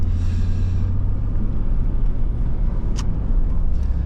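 A 2000 Chevrolet Blazer LS engine under throttle gives a steady, close, low rumble that holds without a break for several seconds, with no talking.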